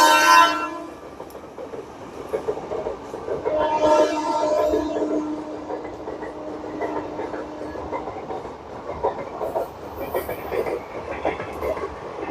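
A crowded Mumbai suburban local train pulls away from a station bound for Virar, a steady rumbling rail noise throughout, with a brief horn-like tone near the start and rising wheel clatter around the middle, mid-distance and fairly loud.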